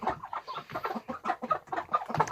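A broody hen clucks in a run of short, rhythmic, close-up clucks, about a dozen pulses in quick succession with no other sound over them.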